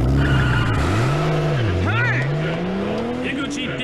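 A car engine revs hard with squealing tires, pitch climbing as it accelerates away, loud and close throughout.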